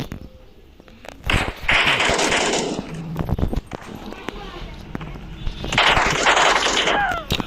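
Bursts of video game gunfire crackle in loud rapid volleys alongside booming impacts and clattering effects, with a person talking over the action.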